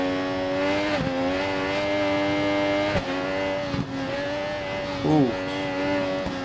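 A motorcycle engine in RIDE 4 holds a steady high drone, then dips sharply on a few quick downshifts, with brief revs and a short exclamation over it.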